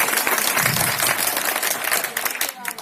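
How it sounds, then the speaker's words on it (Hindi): An audience at a Hindi-language speech breaks into loud, sustained applause: a thick, continuous clapping that tapers into scattered claps near the end. "ताली ऐसे ही नहीं बजना चाहिए यार, बड़ी लंबी चौड़ी बजना चाहिए"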